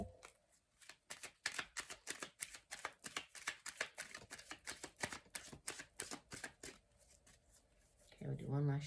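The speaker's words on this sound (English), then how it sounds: "we'll do one last shuffle" Tarot cards are shuffled in a rapid run of crisp riffling bursts, close and fairly loud, ending with a short pause before a voice comes in at the close.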